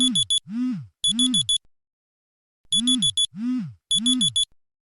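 An alarm clock rings at 3:30 AM on a quiet winter morning, sounding as short bursts of rapid high beeps that repeat in two separated rounds, loud and close. A voice between the bursts rises and falls, imitating or humming along with the alarm.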